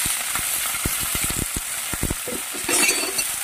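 Potato, eggplant and onion greens sauté in a pan with a steady sizzle, broken by frequent sharp scraping strokes of a spatula stirring in an irregular rhythm, close and clear.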